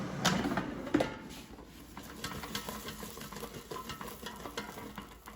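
Cooked mushrooms rattled and tossed in an air fryer basket, a close soft clatter and shuffling with a few louder knocks at first, then lighter scraping.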